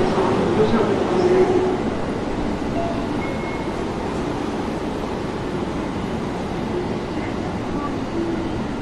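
A commuter train, a Mohа E231-series car out of service, idles at a station with a steady low rumble and hiss, while a clear voice makes a recorded Japanese announcement over it.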